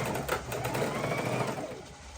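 A sewing machine stitches a quilt border seam, a steady, close mechanical whir with fast rhythmic needle pulses that fades slightly toward the end.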